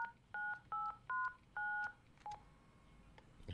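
Touch-tone keypad beeps from a telephone being dialed in a video game: five short, clear dual tones in quick succession, then a softer sixth, fairly quiet and with no voices.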